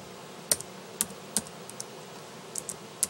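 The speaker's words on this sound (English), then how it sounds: "Now we can type in something." Typing on a computer keyboard, with a handful of crisp, separate key clicks spaced unevenly, close and quiet, with no voice.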